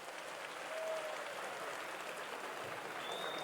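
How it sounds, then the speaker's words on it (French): An audience at a political party anniversary speech gives steady, faint applause, heard as a distant, continuous wash of clapping. "Je voudrais que vous leur fassiez un tonnerre d'applaudissements pour leur présence"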